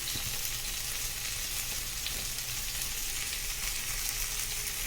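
Chicken pieces fry in a pan with a dense, even sizzle that stays constant and close throughout, with no other sounds.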